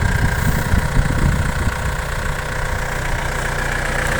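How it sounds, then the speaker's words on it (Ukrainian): A Yanmar F665 tractor engine idles with a steady, low, rumbling chug, loud and close throughout, with no voices. "Сьогодні до нас приїхав отакий от тракторець"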